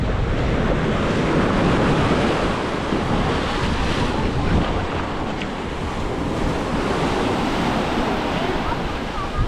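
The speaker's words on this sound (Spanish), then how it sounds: "hubo un descanso en las olas" Ocean waves break on a beach at Playa del Carmen, giving a steady, loud, close surf roar with wind buffeting the microphone throughout.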